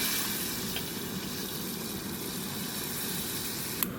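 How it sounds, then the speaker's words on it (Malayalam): Coconut pieces frying in oil in a pan for a duck curry, a steady soft hiss of sizzling throughout with one brief tap near the end, no talk. "തേങ്ങാക്കൊത്ത് മൂപ്പിക്കാൻ പോകണേ."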